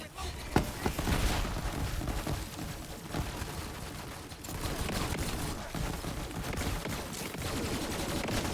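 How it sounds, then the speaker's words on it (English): Enemies fire steady, dense bursts of gunfire in the Borderlands 3 video game, with a quick crackle of shots mixed into busy, loud game action that keeps going without a break. "Somebody shooting me in the back?"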